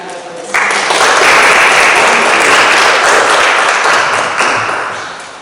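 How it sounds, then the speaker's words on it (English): Audience in Samuel Worth Chapel, Sheffield, breaks into loud, dense applause welcoming a speaker, starting abruptly and swelling before easing off near the end, with a little speech mixed in. "so give round of applause"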